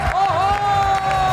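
A studio audience claps and cheers to welcome a guest on a television talk show, a steady dense roar of applause with crowd noise, a sustained musical tone and a voice calling out over it.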